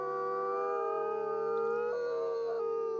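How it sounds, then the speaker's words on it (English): A wolf in a video game gives a long, smooth, tonal howl, loud and close, with a slight pitch wobble near the end and no talking. "His howl is so cute!"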